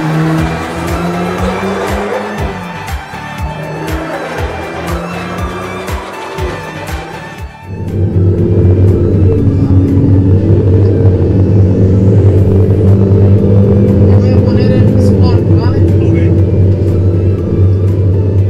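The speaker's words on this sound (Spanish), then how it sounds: "no pierde ese ronquido característico del Jaguar F-Type" Loud 2019 Jaguar F-Type 2.0 300 hp engine noise on the Interlagos race track, first with revving and sharp transients, then a deep sustained roar as the car accelerates.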